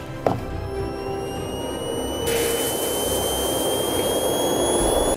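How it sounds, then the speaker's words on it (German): A small jet engine mounted on a homemade powered snowboard roars steadily with a high whine, jumping louder partway through and holding a constant loud rush with whistling tones. "Jet Engine Powered Snowboard."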